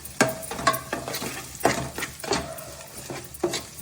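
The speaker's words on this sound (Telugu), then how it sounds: "చాప్ చేసి పెట్టుకున్న ఆనియన్స్ వేసేస్తున్నాను అలాగే పచ్చిమిర్చి సో దీన్ని ఒకసారి మనం కలుపుతాం" Chopped onions and green chillies land in hot oil for a dhaba-style chicken curry, a close crackling sizzle cut by several sharp scraping stirs in a steady rhythm, with no talking.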